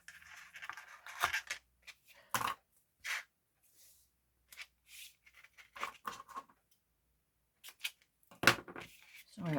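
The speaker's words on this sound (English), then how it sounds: "Usually use my sticky scissors." Several short, sharp snips of scissors cutting paper, separated by quiet gaps, close and fairly soft.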